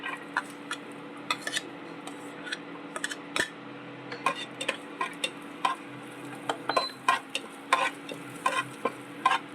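Chopped garlic and asafoetida sautéing in hot oil in a pan, a steady close sizzle broken by frequent sharp clicks and scrapes of a spoon stirring against the metal.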